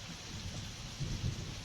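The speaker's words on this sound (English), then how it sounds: "Pretty wicked thunderstorm right now." Soft, steady rain from a summer thunderstorm falling on a rural farm homestead, a faint continuous hiss with a couple of low rumbling swells near the end.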